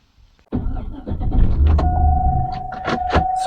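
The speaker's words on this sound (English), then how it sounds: "it's as easy as any modern vehicle to start up and drive" A Chevrolet SSR starts with a short crank click, then the engine catches into a loud, steady low rumble that keeps idling, with a thin tone and a few light clicks on top.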